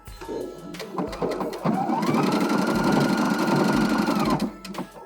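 Up close, a sewing machine runs in a steady, fast burst while stretched fabric for cozy indoor slippers feeds through, with brief stops at the start and end.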